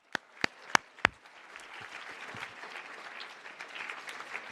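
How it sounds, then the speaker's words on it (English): At a 2023 senior awards event, a few loud, sharp close claps ring out first, then a softer, scattered audience applause for the award recipients follows, moderately distant. "how about a nice round of applause for all of them?"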